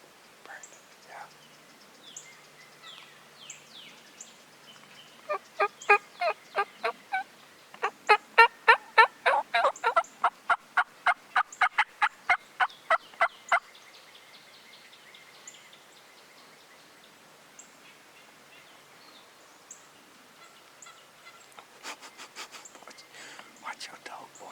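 Wild turkey gobbles ring out in a fast, rattling burst through the woods, followed by a second quieter gobble near the end, with soft whispered voices nearby.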